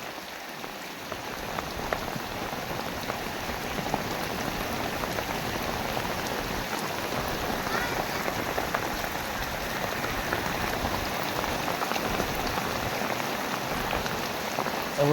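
Steady rain, heard outdoors near a village home, falls on a hard surface with a dense, even patter of drops that keeps going the whole time at moderate loudness, with no voices.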